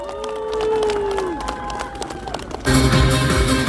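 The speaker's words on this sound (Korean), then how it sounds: "여러분 큰 박수로 맞아주시면 고맙겠습니다" A crowd at an outdoor political campaign rally cheers and claps, with whistle-like calls over the noise, before loud music for a dance troupe kicks in and takes over.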